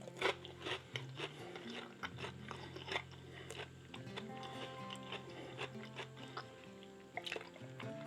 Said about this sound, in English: I'm just going to take a quick bite and see how they are.